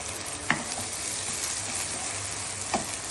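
Onion and ginger-garlic paste frying in a kadhai for mutton curry, a steady close sizzle with two brief stirring clinks of a wooden spoon.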